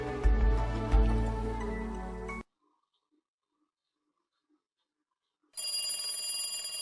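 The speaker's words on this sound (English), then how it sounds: "Teppei stopped kicking her as he heard the phone ring." A telephone rings in the Higurashi visual novel game: one loud, bright ringing burst, then a stretch of near silence, then a thinner ringing tone picks up again. No one speaks.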